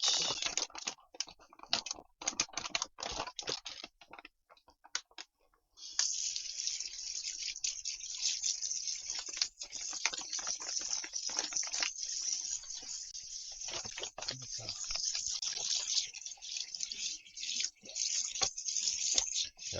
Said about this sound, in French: on va le rincer un peu sous l'eau